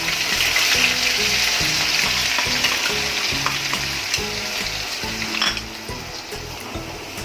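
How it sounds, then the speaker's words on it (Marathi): Ground onion paste sizzles loudly in hot oil in a pan for Amritsari pindi chole, with steady crackling frying and a few scraping stirs, no voices. "तर आपण आता हे कांदे घालूया याच्यामध्ये"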